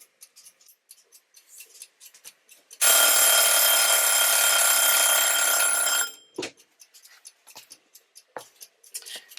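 A small kitchen timer in a tiny house kitchen rings during bread baking, a loud continuous metallic bell trill lasting about three seconds, surrounded by quiet clicks and light handling noises.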